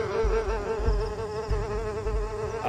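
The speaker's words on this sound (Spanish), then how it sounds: "Moscas sesé gigantes que revolteaban." Giant tsetse flies in the jungle video game UnMetal buzz loudly and continuously, a close, wavering insect drone alone without any talk.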